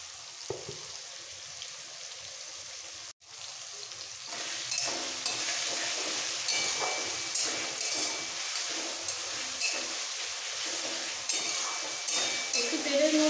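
Grated ginger, green chilli and garlic hit hot oil, where tomato and onion are already softening, and a brief pause gives way to a dense, continuous sizzle and stir-frying hiss with faint utensil scrapes.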